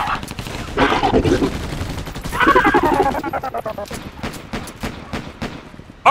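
Dense automatic gunfire in the video game Battle Los Angeles, loud and near, rattling in sustained bursts with shouted voices mixed in.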